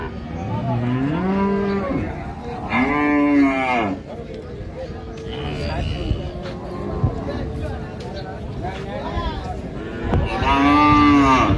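Cows and calves moo loudly and repeatedly at a cattle market in Raniganj, long drawn-out calls rising over a busy background of crowd chatter and people talking.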